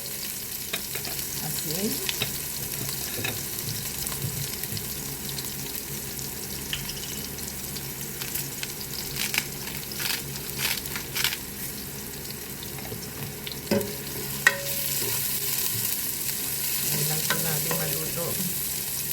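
Onion and garlic sautéing in a pan for Filipino ginisang ampalaya, a steady close sizzle with scraping stir clicks and brief spatters throughout, no talk.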